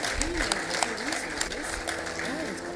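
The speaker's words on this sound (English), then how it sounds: "may we have another round of applause for His Excellency, President Joseph Yuma Boakai" A conference crowd at the 2026 National Fisheries Investment Conference applauds President Joseph Boakai, a steady wash of distant clapping under speaking voices.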